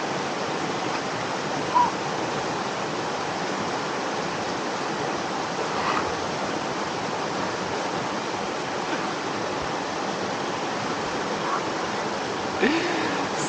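Cold river water in Slovenia flowing steadily as a broad, continuous rushing wash, loud and close, with no clear speech over it.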